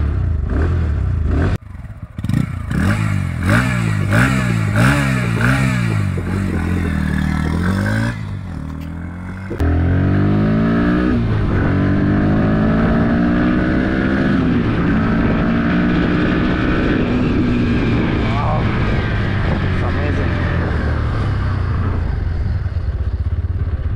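A 2024 Bajaj Pulsar NS160 motorcycle engine cranks on the self-starter, catches, and settles into a steady, loud idle that revs and rises, with wind buffeting the microphone throughout.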